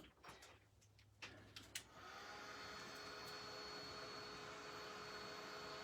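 A heat tool blows steadily to set craft ink, its even whirring roar starting after about two seconds and holding loud and constant, preceded by a few light handling clicks.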